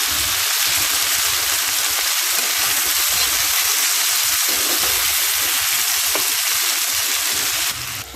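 Cut potatoes fry loudly in a pan, a dense, steady sizzle with soft bubbling and crackle that holds evenly throughout, close and without talk.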